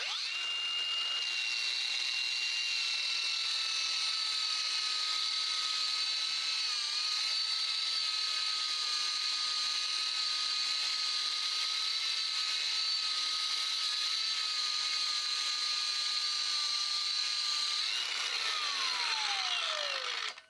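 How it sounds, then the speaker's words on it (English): A Hercules 20V brushless cordless surface conditioner spins a wire wheel at 2,500 RPM to strip rough scaled rust from metal, a loud steady whine with a hissing brush edge that winds down at the end. "I'm going to install the wire wheel to the surface conditioner. We're going to see if we can't get some of this rough scaled rust off."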